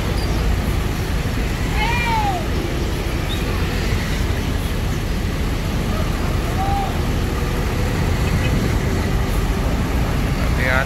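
A Rosalia Indah bus maneuvers out of a cramped parking area with a continuous low diesel rumble and traffic-like background noise. A few faint chirps rise briefly above it.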